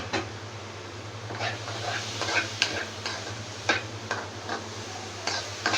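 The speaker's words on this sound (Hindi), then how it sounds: "इसको मज़ीद 5 मिनट के लिए दोनों चीज़ों को हम भून लेंगे।" Carrots, onions and capsicum sauté in a pan with a low continuous hum and faint sizzle, while a spoon stirs and taps against the pan in irregular scraping bursts.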